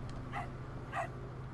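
A dog barks twice in the Tintin video game, two short, separate yips over a quiet game background.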